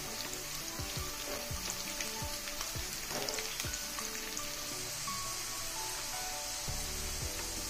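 Green chillies and curry leaves frying in hot oil, a steady close sizzle with crackling pops throughout and occasional spoon or pan knocks.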